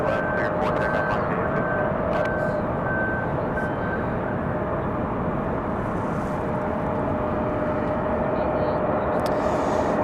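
An aircraft takes off from runway 23 left at Raleigh-Durham International, heard as a steady, fairly distant roar that holds constant throughout, with a faint tonal whine and occasional faint beeps over it.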